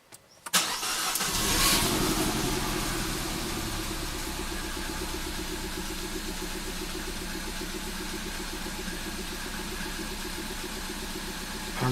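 Citroën DS3 restarting after an intake valve cleaning: a quick crank and catch, a brief rev, then a steady close idle running evenly to the end without talk.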